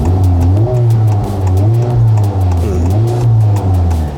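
A sports car engine revs up and down repeatedly against a soft limiter at 3,400 RPM, its throaty exhaust note rising and falling in loud, close bursts.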